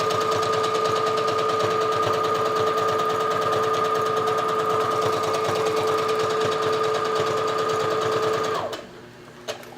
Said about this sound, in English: So I'm just gonna go ahead and start sewing my straight line.